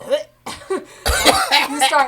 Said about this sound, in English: you start coughing and hacking